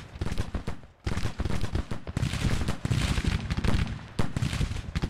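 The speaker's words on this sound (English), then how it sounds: "Early's boys firing behind good cover" Dense musket volleys crackle from soldiers behind good cover in a Civil War battle in the video game Grand Tactician, a near-continuous rolling fusillade with brief gaps, loud and without talk.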